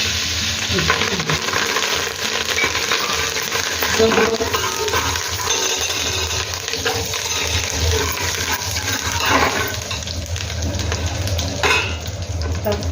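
Curry leaves sizzle hard in hot melted butter for pav bhaji, a loud continuous crackling fry with some stirring and pan noise, and voices talking faintly underneath.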